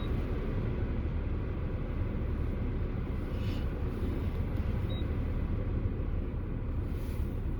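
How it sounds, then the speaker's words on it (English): Car heater fan blowing inside a parked car on a 17-degree day, a steady broadband whoosh filling the cabin at moderate level, running continuously without change. "I do apologize for how loud my heat is"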